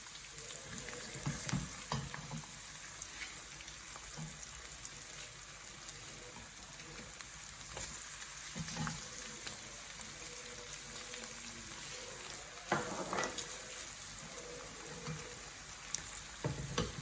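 Onion hits a pan of browned beef and fries with a steady, faint sizzle, with occasional stirring clicks and scrapes over the hiss.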